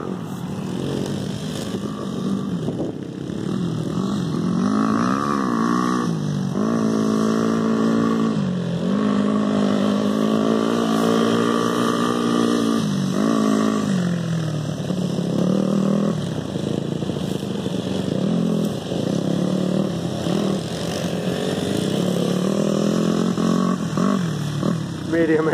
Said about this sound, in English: That little bike's all over the place.